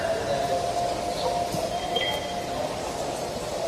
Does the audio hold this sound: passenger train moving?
yes